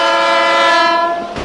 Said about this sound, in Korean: 출발을 알리는 기적 소리가 울리자